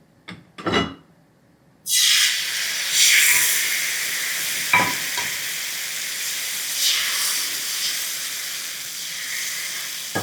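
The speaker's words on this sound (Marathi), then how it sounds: "पीठ ढवळायचं, छान असं ढवळून घ्यायचं आणि तव्याच्या बाजूने सोडायचं" Rice batter for ghavan hits a hot tawa with a sudden loud sizzle that holds as a steady hiss, broken by a few faint clinks, with no talking.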